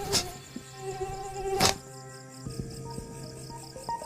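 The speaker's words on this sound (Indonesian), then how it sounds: "Karena banyak nyamuk, Denny pun tidak bisa tidur" A thin, high mosquito whine hovers close by, joined by a couple of sharp swishing bursts and soft thuds, with no talking.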